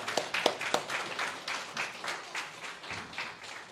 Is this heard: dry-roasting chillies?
no